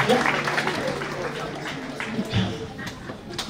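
A church congregation claps for Jesus Christ, a scattered burst of applause that is strongest at the start and thins out, with voices talking over it.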